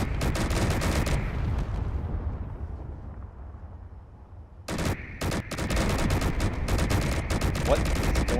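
Spaceship main guns fire in a Star Wars ship-building video game, a dense, loud barrage of booming blasts that fades into a rumble, then bursts again into rapid repeated shots.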